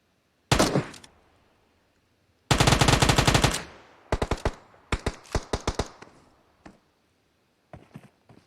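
Gunfire in a battle royale video game during pro scrims, with a single sharp shot, then a dense automatic burst, then scattered quick volleys and single shots, loud and close, separated by short silences.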